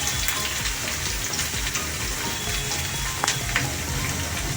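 Prawns frying in a pan with onion and curry leaves for a Goan prawn balchao, a steady close sizzle with crackling pops running throughout, no voices.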